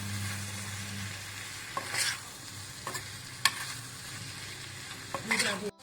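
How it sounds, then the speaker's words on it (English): Bacon and soft vegetables sizzle and fry in a pan for a bacon pork breakfast, with a steady low crackle broken by several sharp scraping stirs of a utensil, close and alone with no talk. "Now we have added the bacon and we mix all these vegetables along with the bacon."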